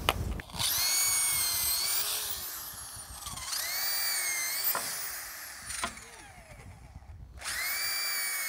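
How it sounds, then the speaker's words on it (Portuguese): A power drill bores into roof wood on a concrete tile roof job, whining loudly in sustained runs with pitch sweeps as the bit bites and slows, broken by brief pauses, no talk. "Furar do outro lado aí também."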